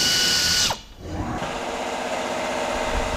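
A power tool spins out the 10 mm bolts holding an ARB bash plate on a Toyota Landcruiser 200 Series: a loud, close high whine that cuts off, briefly dips, then settles into a steady lower running drone with no talk.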